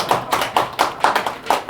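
Audience members at a Buddhist humanities lecture clap in a brief, sharp, fairly even rhythm of about eight claps, close and loud.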